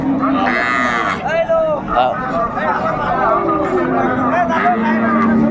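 Cows with calves moo loudly several times in long, drawn-out calls while people chatter in the background at Raniganj cattle market.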